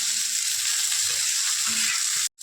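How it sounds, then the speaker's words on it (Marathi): Potatoes being mixed into onions frying in a pan for a bitter gourd (karela) vegetable dish: a loud, steady broadband sizzle with soft scraping stir sounds underneath, cutting off abruptly near the end. "बटाट्यांना आपण मिक्स करून घेऊया कांद्यामध्ये"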